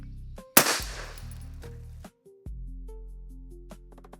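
A 300 Blackout subsonic rifle fires a single sharp shot followed by a short ringing decay, then quieter mechanical handling noises, with no talk.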